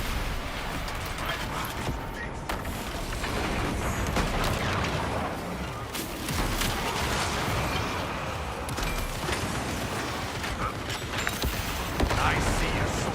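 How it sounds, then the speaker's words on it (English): A video game battle against chaos sorcerers erupts in dense, continuous explosions and booms, loud and layered with rattling bursts throughout. "So many explosions."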